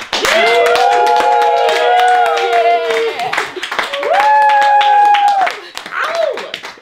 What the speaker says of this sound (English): another huge round of applause for that video and everybody who contributed.